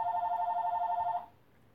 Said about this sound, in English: Now the phone's going to ring.